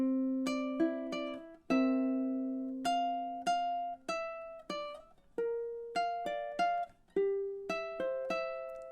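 Solo ukulele picking fingerstyle through measures 18 to 22 of a song, bright plucked notes ringing over each other in a flowing, even pattern, close and clear with no voice.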